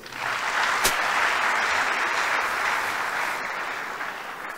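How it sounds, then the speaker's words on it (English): Steady applause from an audience, a broad wash of clapping that holds evenly for several seconds with one sharp louder clap near the start. "Shall we applaud them, please?"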